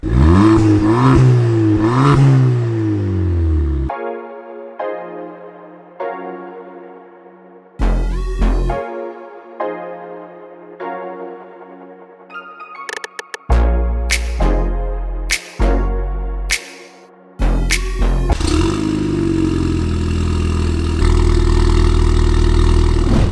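A tuned Ford Fiesta ST180 engine revs loudly up close as the car is driven into a workshop, with sweeping rising engine tones at the start and end and tonal music playing in between.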